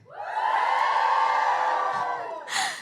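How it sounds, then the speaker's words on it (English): A live theatre audience at the Garrick cheers and whoops together, a sustained roar of many voices that swells, holds steady, then fades before a final shout near the end. "Give me a cheer if this is your very first time seeing me live."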